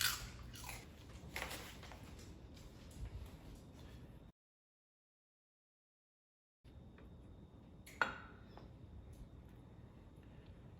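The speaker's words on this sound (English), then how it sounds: "Oh, listen to that crunch." A dog crunches on baked fish-skin treats, with close, dry crunching and chewing bursts, a silent gap in the middle, then more chewing with one sharp crack.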